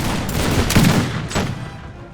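Musket volleys from Minutemen firing on advancing line infantry in an American Revolution battle game, heard as several loud, crackling bursts of massed gunfire rolling over one another with no pauses between them.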